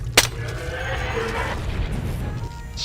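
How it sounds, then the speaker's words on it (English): A scramble grenade goes off in Deus Ex with a sharp, loud burst followed by a fading electronic crackle and hum. "Scramble grenade."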